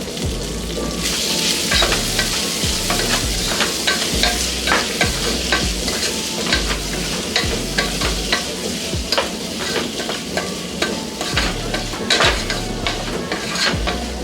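Ridge gourd chutney with coriander and salt frying in a pan, a steady sizzle under repeated rhythmic scrapes and clinks of a spoon stirring against the metal, close and continuous with no talk.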